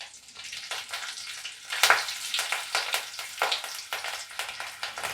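Two green chilies drop into hot oil for a papaya curry, setting off a crackling, spitting sizzle of uneven bursts and pops close by, with no talk over it.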